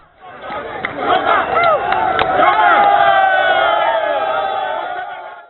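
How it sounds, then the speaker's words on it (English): A large crowd of rally supporters shouts and cheers in a street in Mbale, a loud, sustained roar of many voices with whoops rising above it. "The crowds insisted on their way and finally accessed it."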